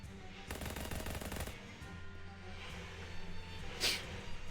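Gunfire in the video game Shadows Over Loathing strikes an old oil burner: one loud rapid burst of about a second, then quieter ambience with a faint later pop.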